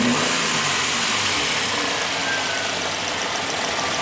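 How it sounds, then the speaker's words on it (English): A car engine is blipped with a quick snap of the throttle during an ignition timing check, giving a loud, close, continuous roar with no speech. "You do a snap throttle."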